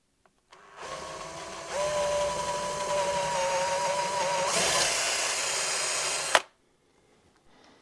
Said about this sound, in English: So you can see the holes are drilled.